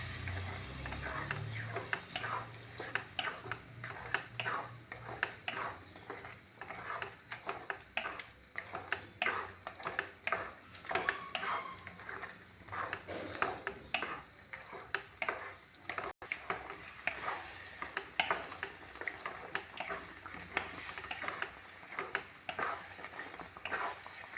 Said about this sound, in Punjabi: ਆਪਾਂ ਜੀ ਸਾਰੇ ਨਮਕ ਮਿਰਚ ਮਸਾਲੇ ਵਿੱਚ ਚੰਗੀ ਤਰ੍ਹਾਂ ਮੈਸ਼ ਕਰ ਦਾਂਗੇ